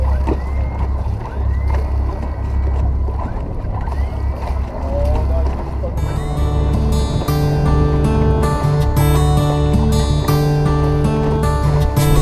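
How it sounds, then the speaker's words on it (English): A heavy, continuous mechanical drone of a boat's anchor winch straining to haul an anchor up from mud, steady and loud, with wind noise and water sounds around it. "You can see here that the anchor winch is struggling a bit to get the anchor up"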